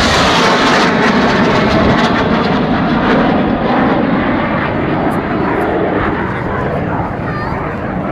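Red Arrows jets rolling overhead at the 2009 Perth airshow in Scotland, a loud sustained roar that slowly fades, with a commentator talking over it.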